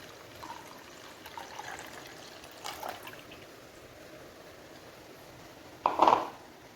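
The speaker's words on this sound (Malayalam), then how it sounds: "ഇനി ഒരു ഇരുമ്പിൻ്റെ ചട്ടി എടുത്തിട്ട് നമ്മളിതിലേക്ക് അരിച്ച് വെച്ചേക്കുന്നത് ഒന്ന് ഒഴിച്ചു കൊടുക്കാം" Strained liquid being poured into an iron pan for a homemade hair remedy: a soft trickle and a few faint splashes, then a brief louder pour near the end, close and otherwise quiet.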